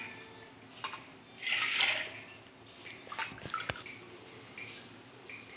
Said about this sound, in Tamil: இந்த வறுத்த பாசிப்பருப்பை நல்லா வாஷ் பண்ணிவிட்டு இதில் 6 டம்ளர் தண்ணி ஊற்றணும்